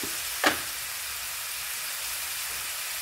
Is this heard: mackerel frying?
yes